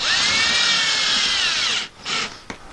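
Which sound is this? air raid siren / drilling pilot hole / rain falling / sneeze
drilling pilot hole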